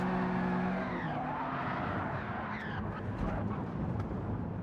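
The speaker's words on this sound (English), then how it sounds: "Whoa, that was a big old spin." A race car in Gran Turismo 7 spins out, its tyres skidding and squealing in long, wavering sweeps over a constant engine drone, loud and continuous throughout.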